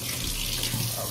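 Tap water runs steadily into a sink while strawberries are washed for a blended punch drink, a constant close rushing with no talk over it.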